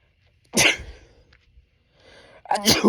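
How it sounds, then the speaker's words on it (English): Two sharp sneezes burst out close by, the first loud and the second starting just before the end, separated by quiet breathing. "Hold on, I'm about to sneeze."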